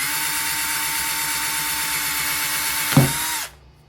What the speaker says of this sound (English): Drill right in the center here.